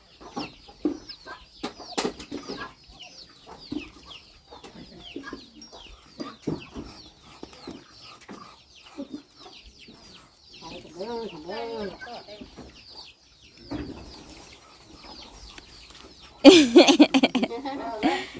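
Chickens, kept alongside ducks, cluck in short scattered bursts with an occasional louder squawk near the end, while people talk nearby.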